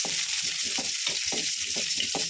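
Garlic and curry leaves sauté in hot oil with a loud, steady hiss, and the pan is stirred in quick, regular scraping strokes close by.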